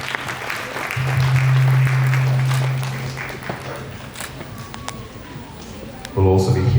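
An audience applauds as a church member walks to the stage, moderate clapping that builds and then thins out, with a voice speaking over the tail end.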